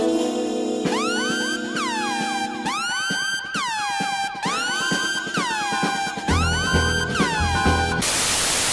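Siren music from a film soundtrack: a loud sequence of rising and falling siren-like tones, repeated in quick regular bursts over a low pulsing bed, ending abruptly in a short blast of hissing noise.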